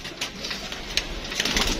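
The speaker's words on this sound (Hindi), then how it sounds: "तो बाकी ये कबूतर थे दोस्तों" Pigeons kept in pairs for sale, cooing softly at close range, with low murmuring calls over faint background noise and a few brighter clicks and rustles.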